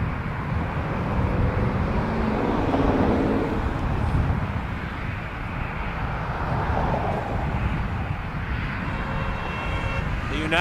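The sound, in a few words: RJ900 regional jet airliner approaching to land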